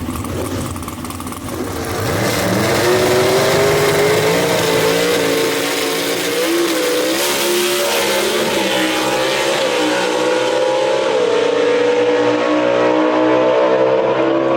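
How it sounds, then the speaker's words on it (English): A gasser drag race car, a Falcon fitted with a Dwayne Bush race engine, revs hard at the drag strip. After a quieter start it becomes a loud, sustained engine roar with rising and falling pitch. "Daniel Haynes with the Dwayne Bush race engine under the hood for him and his Falcon right there"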